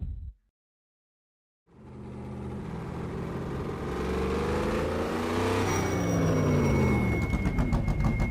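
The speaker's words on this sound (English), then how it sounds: "The Maserati Gran Turismo, used in the Trofeo World Series." A Maserati GranTurismo Trofeo racing car in rFactor 2, a rear-wheel-drive 488 bhp car, cuts in loud after a short silence, its engine note climbing steadily through the gears with a rising, buzzing roar and a high whine on top.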